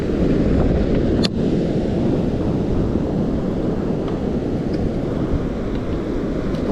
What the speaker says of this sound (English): That wind's eased off a little bit.